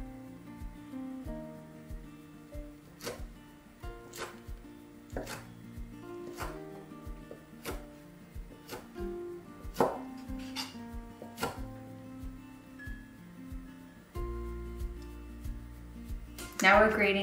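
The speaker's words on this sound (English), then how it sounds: "Next, we're dicing 75 grams of ham." A knife dices slices of uncured Black Forest ham on a board in a home kitchen, giving a steady series of crisp, evenly spaced chops over quiet background music.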